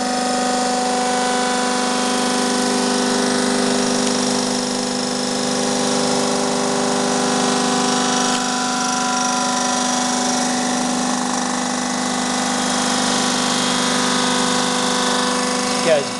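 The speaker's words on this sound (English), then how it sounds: "Surface grinder, or by the boys in the trade call them just a mill, head mill." RC900 head mill making a light automatic finish cut across V8 cylinder heads, a steady loud mechanical drone with a constant tonal hum that holds evenly throughout.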